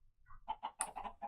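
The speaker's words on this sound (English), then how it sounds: "if he's got chickens going in there" Minecraft chickens cluck in a quick run of five or six short, close, clear calls, with no talk over them.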